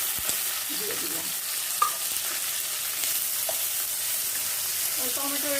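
Chopped tomatoes and green chillies sizzling steadily in a pan while being stirred, with a few scraping clinks of the spoon against the pan; no talking.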